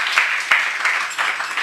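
Audience applause in a devotional lecture hall, a short burst of steady clapping at moderate volume with no speech over it.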